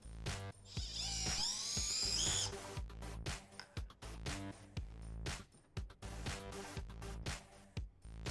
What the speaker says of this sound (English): As you can see, the Adedad can take out screws easily.